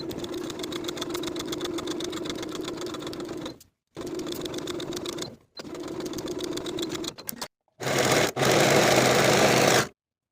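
A sewing machine stitching a shirt yoke seam runs in steady whirring bursts separated by short pauses, the motor humming with a fast rhythmic needle clatter, close and alone.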